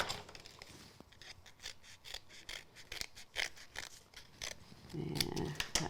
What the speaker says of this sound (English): I'm going to trim away the extra bit with my scissors.